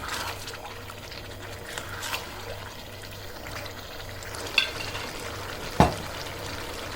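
Mutton with capsicum roasts on high heat for bhuna gosht, a low steady sizzle with soft stirring and a couple of sharp spoon knocks against the pot.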